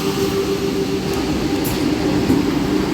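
Danapur Sahibganj Intercity Express train running, a steady rumbling rail drone with a sustained hum, close and continuous throughout with no voices.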